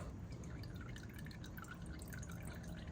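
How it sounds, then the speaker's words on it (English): Motor oil drips from the removed oil filter of a 2022 Honda Africa Twin Adventure Sports during an oil change, with faint, rapid little ticks over a steady low hiss. "Let all the oil drip."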